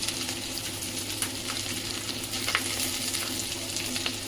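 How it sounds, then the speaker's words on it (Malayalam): Ginger and green chilies fry in a pan for Schezwan chicken noodles, a dense steady sizzle with faint scraping as they are stirred continuously, close and alone without speech. "എപ്പോഴും ഇങ്ങനെ ഇളകിക്കൊണ്ടിരിക്കണം, അടി പിടിക്കാൻ പാടില്ല."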